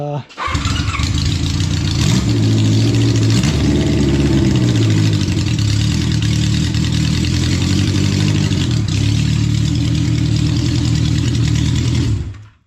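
A 1972 Honda CB500 Four with baffled straight pipes starts and runs in a garage, a loud, steady four-cylinder rumble holding a throaty idle with small revs, close by throughout.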